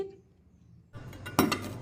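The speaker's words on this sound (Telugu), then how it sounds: "పొడిగాటి గరిటెతో కలిపేసేయాలి" A long ladle stirs baking soda and salt water inside a clay pot, a quiet pause giving way to a scraping swirl and a sharp clink against the pot's wall.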